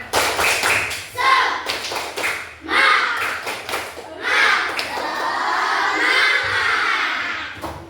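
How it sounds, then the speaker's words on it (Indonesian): Schoolchildren in a classroom doing a rhythmic spirit clap chant, with sharp bursts of clapping in patterned groups and loud shouted chanting voices rising and falling between claps. "Yuk kita tepuk semangat dulu. Tepuk semangat."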